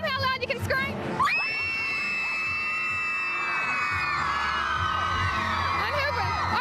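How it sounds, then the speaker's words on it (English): A crowd of girls screams loudly and shrilly at a fan event in Adelaide, a sustained, dense wall of piercing shrieks and cheers up close. "These girls, show them how loud you can scream."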